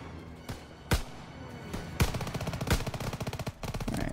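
Gunfire in Call of Duty: WWII: a few sharp single shots ring out, then rapid automatic bursts rattle on in quick succession, loud and close.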